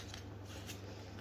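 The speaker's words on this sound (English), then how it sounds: "Let's give it one more shuffle." Tarot cards are shuffled in a quick, soft riffling burst, faint and close with a low steady hum underneath.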